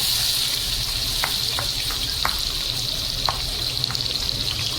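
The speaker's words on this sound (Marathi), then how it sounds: "आता फोडणी करून घेते. आता भरपूर असा कढीपत्ता घातला आहे आणि 3 मोठे कांदे घेतले." Three large, finely chopped onions and plenty of curry leaves fry in hot tempering oil, making a steady, close sizzle scattered with small pops and clicks, with no voices.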